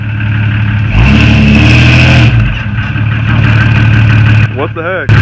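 A pickup truck revs hard while off-roading through mud after a blizzard, its engine surging loudly for several seconds, then easing off, with a voice sweeping up and down briefly near the end.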